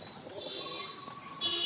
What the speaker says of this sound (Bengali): কতটা ছটফটে পায়রা